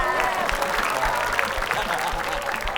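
A studio audience applauds at an Indonesian quiz tournament, dense loud clapping filling the short stretch steadily with no break and no talk.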